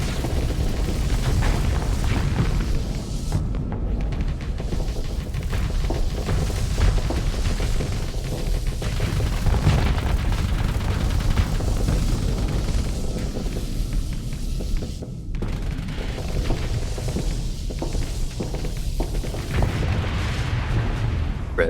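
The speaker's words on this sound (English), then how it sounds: "There's that missile barrage." Missile barrage explosions in the space combat game Starsector: a dense, continuous roar of booming blasts and rumble that stays loud throughout, with brief dips, and no talk.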